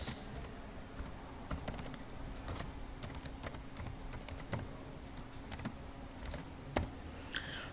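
Quick, irregular keystrokes tapped on a computer keyboard while a file name is entered in Microsoft Access, light clicks in uneven bursts over a faint steady hum, no voices.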